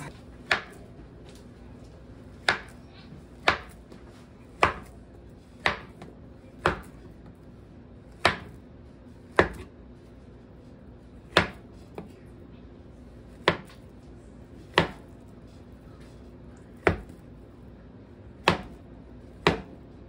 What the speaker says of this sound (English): We need to slice up some bananas.